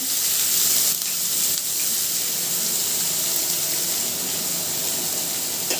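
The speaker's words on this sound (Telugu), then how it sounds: "అలాగే 2 ఆనియన్స్ అండి, కట్ చేసి పెట్టుకున్నాను, అవి కూడా వేసేస్తున్నాను." Chopped onions hitting hot oil with cloves, cardamom and cumin for a mushroom masala curry, giving a steady, loud sizzle and hiss that carries on with little change.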